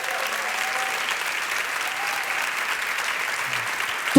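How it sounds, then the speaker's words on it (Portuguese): A large audience at a Catholic worship event claps in a dense, steady wash of applause that stays even for several seconds without speech. "Aplaude seus 22 anos de fundação."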